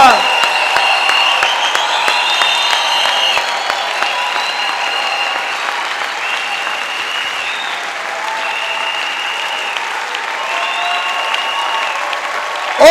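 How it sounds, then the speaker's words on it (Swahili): A church congregation claps steadily through a sermon by a pastor from Canada, a dense, continuous wash of applause lasting the whole stretch, with sustained tonal voices or music ringing above it. "Donnez une bonne main d'acclamation à Dieu"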